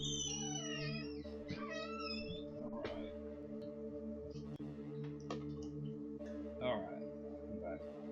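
A cat meows several times indoors, rising and falling calls close by over a steady hum, with people talking in the background.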